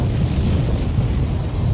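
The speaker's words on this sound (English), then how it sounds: "The wires connected to the stick of dynamite in the detonator. Everything's ready for the explosion." A stick of dynamite wired to a detonator blows up in the Black Mirror II adventure game, a loud, sustained low rumbling boom filling the whole moment with no talk.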